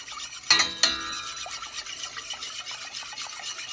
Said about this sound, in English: Whisk everything together.